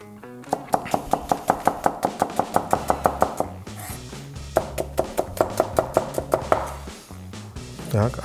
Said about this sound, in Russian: Огурец нашинкуем тонкой соломкой.